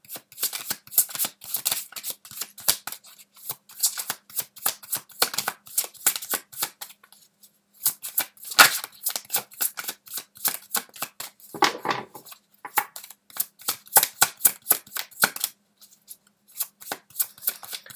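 Tarot cards being shuffled for a Sagittarius reading, rapid rhythmic riffling and flicking that is close and crisp and continues almost without a break, with only brief gaps.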